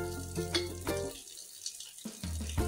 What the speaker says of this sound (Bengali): তো কড়াইটা ধুয়ে বসিয়ে দেবো।